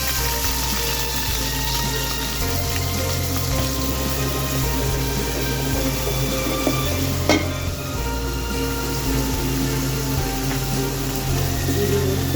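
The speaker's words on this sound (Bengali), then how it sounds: "বসাই দিচ্ছি তেল, তো গরম হয়ে গেছে, দিয়ে দেবো পেঁয়াজ" Onions hit hot oil in a home kitchen and fry with a continuous, close sizzle and crackle, a low steady hum running underneath.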